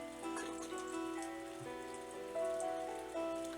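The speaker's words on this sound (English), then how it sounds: "Cold rain was still pouring down on him" Rain pours steadily in a visual novel game scene, a soft continuous patter on surfaces beneath gentle sustained musical tones, quiet and even with no talking.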